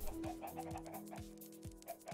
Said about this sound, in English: I'm gonna cull this herd of chickens.